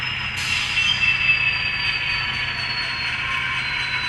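An On Track Models class 82 DCC sound model locomotive brakes, with a steady electric hum and a thin high-pitched squeal sustained at close range.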